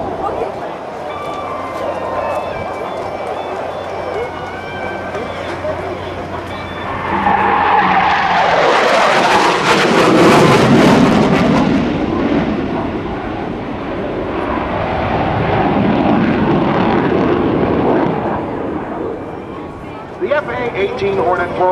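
An F/A-18C Hornet jet roars past during an airshow demonstration at NAS Oceana, its engine noise building from a distant rumble to a loud, sustained sweeping roar, then fading slightly, with an announcer talking throughout.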